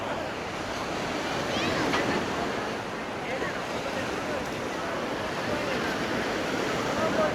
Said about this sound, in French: C'est vraiment une belle plage.